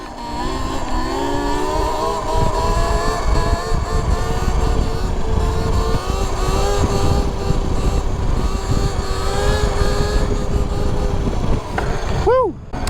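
Talaria XXX electric dirt bike ridden at speed of about 84 km/h, a rising and falling electric motor whine with rushing wind noise, loud and close throughout.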